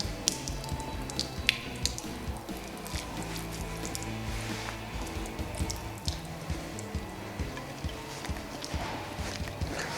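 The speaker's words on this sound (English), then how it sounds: "pull the handle. And that will get all the RV antifreeze out of the hose." RV antifreeze draining out of a hose while winterizing a 2021 Winnebago Revel with the Nautilus system, a continuous wet gurgling and splashing with scattered drips, close and steady throughout.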